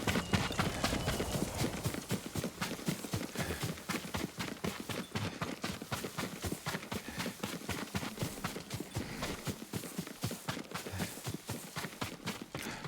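Horse hooves in the Ghost of Tsushima video game, a steady rapid clip-clop of galloping or trotting hooves throughout, fairly quiet with no talk.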